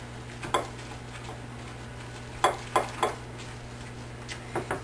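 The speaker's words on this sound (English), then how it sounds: "Okay, so we stir that up." A spoon stirring a spaghetti noodle mixture in a bowl gives a few sharp clinks and scrapes against the bowl, scattered across a quiet room hum.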